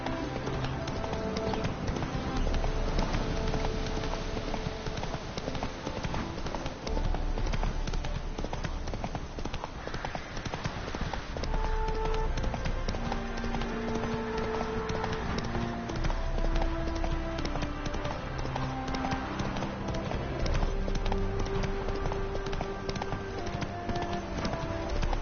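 The horse Roach galloping in The Witcher 3: Hearts of Stone, a steady rhythmic clip-clop of hooves that runs throughout, mixed with sustained musical tones.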